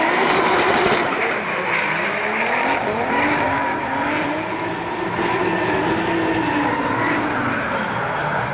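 Drift car engine held flat on the gas during a D1NZ battle at Wellington Speedway, a loud continuous turbo-engine roar with rising and falling pitch sweeps, close and sustained throughout, without talk.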